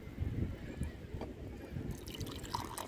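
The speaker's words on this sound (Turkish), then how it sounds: "Hemen çayı süzürəm." Freshly brewed samovar tea being strained, with liquid trickling and dripping steadily for a few seconds outdoors by the sea, fairly close and moderately loud.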